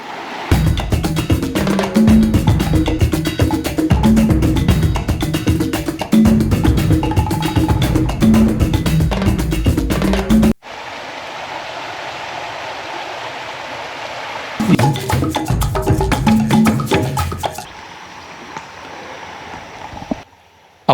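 A rain-swollen river at Guadalupe River State Park rushes with a continuous broadband roar, heard alone in the middle and mixed with other sounds before and after.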